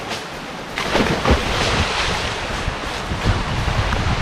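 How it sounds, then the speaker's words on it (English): A flooded river runs bank to bank with a strong current, rushing and churning loudly nearby with gusty surges and no talk. "river come down. Bank to bank"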